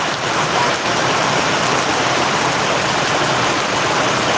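Heavy rain drums steadily and loudly on a tin sheet roof, a dense continuous patter with no pauses.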